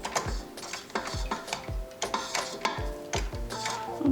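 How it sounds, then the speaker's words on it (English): Stand mixer whisking vanilla cupcake batter, a steady near mechanical whir with repeated rhythmic knocks of the whisk wires against the bowl at roughly half-second intervals, no talk. "now we're just going to let it blend on high for a couple of minutes"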